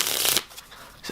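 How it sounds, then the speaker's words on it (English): A deck of Light Blue Crown playing cards being shuffled close up: a brief dense riffle burst followed by fainter card handling. "You can see just cutting and shuffling as well."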